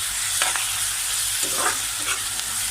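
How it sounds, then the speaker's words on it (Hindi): Chicken frying in a pan on a home stove while being stirred, with a steady sizzle and a few scraping stir strokes, close and fairly loud, with no talking. "अभी इसको हम पूरा हिला देगा।"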